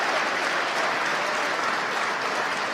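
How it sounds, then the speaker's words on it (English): Steady applause from the SpaceX team in Mission Control during a Falcon 9 launch and landing fills the whole moment, dense and continuous, with a faint crowd murmur underneath. "You can hear the applause in the background from the SpaceX team gathered around the Mission Control"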